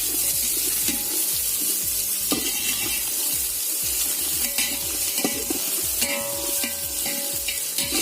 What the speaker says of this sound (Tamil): நல்லா பொன்னிறமாக வர வரைக்கும் வெங்காயத்தை வதக்கணும்.